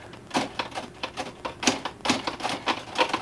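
Clacking mechanical strikes and rattles of an old Remington Rand typewriter being handled, irregular sharp clicks close up.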